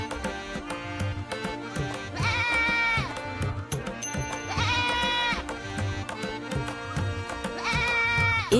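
A goat in a Hindi cartoon story bleats three times at spaced intervals, each call wavering and drawn out, over a steady rhythmic music backing.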